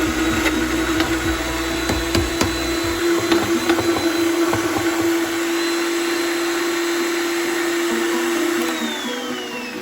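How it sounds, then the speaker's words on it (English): A food processor whirs loudly and continuously as it chops garlic and ginger, a steady high motor drone with scattered clicks and rattles of the pieces early on, no voices. "got the garlic and the ginger in the food processor"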